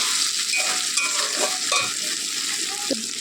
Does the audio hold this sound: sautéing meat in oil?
yes